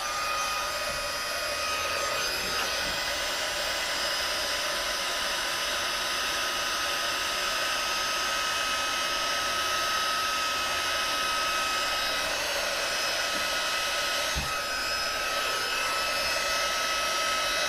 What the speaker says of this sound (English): I've got my heat tool here, and I'm just going to heat set this with my heat tool